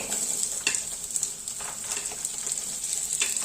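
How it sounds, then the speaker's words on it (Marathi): Cashews, onion and tomato frying in a kadhai for a dhaba-style matar paneer malai methi dish, a steady close sizzle with faint stirring scrapes, no talking. "जे आपण घेतलं होतं ना काजू, कांदा, टोमॅटो सगळं छान फ्राय करून घेणार आहे"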